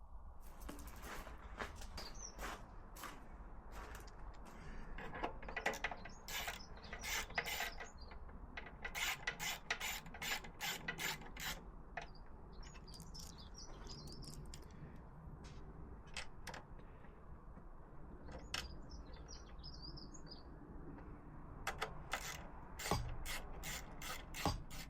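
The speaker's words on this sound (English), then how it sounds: "let's get the bolts back in" Bolts being fastened back into a Yamaha WR motorcycle, with quiet repeated ratcheting clicks in short bursts and pauses, close and faint, a few birds in the background.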